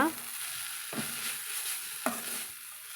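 Arai keerai greens being stirred and fried in a pan as a poriyal with chilli powder, with a steady close sizzle and two sharp scrapes of the spoon against the pan.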